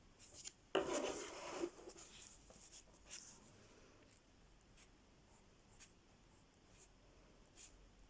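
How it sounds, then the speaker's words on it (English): Colored pencil strokes rubbing across paper during adult coloring, a loud scratchy burst around the first second, then faint intermittent scratching at low level. "Turn your pencil as you go to keep that sharp edge."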